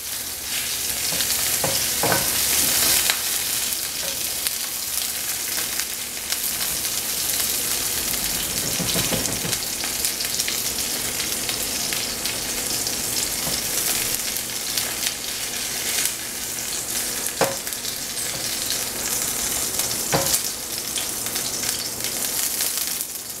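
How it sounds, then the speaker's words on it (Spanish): Chile, tomato, tomatillo and half an onion fry in a pan with a loud, continuous sizzle, broken by occasional stirring scrapes. "Dorando el chile, el tomate, el tomatillo, un tomatillo y la cebolla, la mitad de una cebolla."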